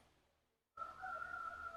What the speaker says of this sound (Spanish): después que escuchó la voz del gallo cantar